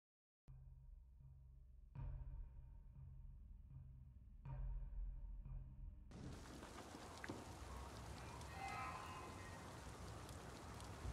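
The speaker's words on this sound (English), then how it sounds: "Bit of rain today." Rain in the fantasy game Warhammer Vermintide 2, a dense, even hiss of falling drops that starts after a few soft low thuds and continues steadily, fairly quiet, with no voices.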